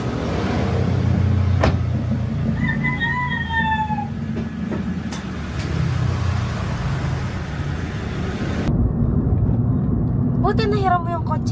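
A borrowed car's engine runs steadily as it pulls up, a continuous low vehicle rumble with people talking over it throughout.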